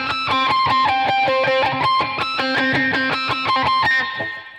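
A distorted electric guitar, likely on the bridge pickup with heavy gain, plays a rapid run of picked notes with squealing pinch harmonics, loud and close throughout before ringing out at the end.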